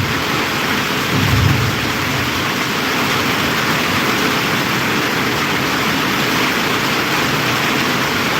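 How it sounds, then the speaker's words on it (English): Heavy rain pours steadily in Kenya as a dense, unbroken hiss that sits close and loud for the whole stretch, with a brief low rumble early on and no voices. "It's raining here heavily."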